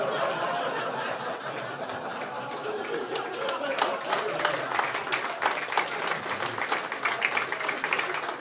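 Audience applause at a live French-language stand-up comedy show, a steady dense clapping wash running throughout with scattered chuckles and crowd chatter mixed in.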